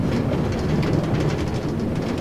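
Riding a train in Minecraft on The Dropper map, with a constant loud rolling rumble and a faint clickety-clack texture carrying on evenly throughout, no one talking.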